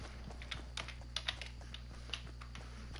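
Scattered computer-keyboard keystrokes from a Fortnite session: quick, irregular taps, some clustered and some isolated, fairly faint over a steady low hum, with no talking.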